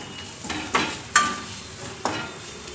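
Egg masala curry with coriander powder being stirred in a pan, a few distinct scraping and clinking strokes a second or so apart under a faint sizzle, close and fairly quiet, no talking.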